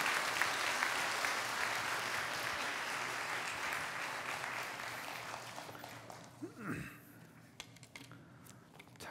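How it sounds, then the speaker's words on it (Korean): Church congregation applauding as a pastor is welcomed to the front for a sermon, steady broadband clapping that fills most of the clip before tapering off, with a faint voice near the end. "박수로 환영해 주시기 바랍니다"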